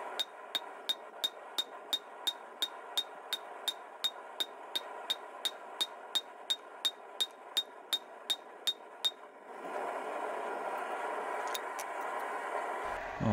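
Rapid, evenly spaced metallic hammer blows forging a blacksmith's bick ring out about twenty times in a row, then stop, leaving a hissing, rumbling workshop background.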